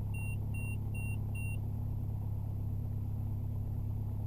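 Four short, evenly spaced electronic autopilot warning beeps sound in an aircraft cockpit during an autopilot test, over a steady engine drone, then only the continuous hum remains.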